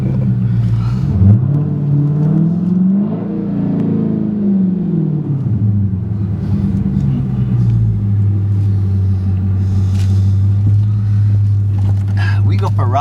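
A Dodge Challenger Hellcat with a bad pressure plate and slipping clutch revs loudly and close, its engine pitch climbing and sagging before settling into a steady high drone, with people talking over it.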